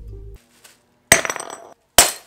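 Pieces of glass are handled during a glass-melting experiment, with a faint clink followed by two sharp, loud clattering knocks of glass against a hard surface, close and without talk.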